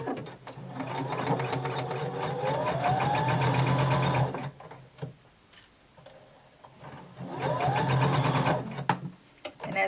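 A sewing machine stitches the armhole edge of a bodice lining in two long, steady runs, each slowing as it ends, with a quiet gap between them, close and fairly loud.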